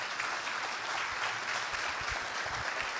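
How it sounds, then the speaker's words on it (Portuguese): Congregation clapping during a church worship service, a moderately quiet, sustained ripple of many hands with faint low thumps beneath. "Pode dar uma salva de palmas para Jesus."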